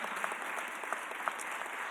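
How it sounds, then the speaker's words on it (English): Steady applause from a press conference audience at a mayor's event, a continuous wash of hand claps with a few sharper individual claps standing out, moderately close and sustained throughout. "Can we give them another round of applause because they have been phenomenal."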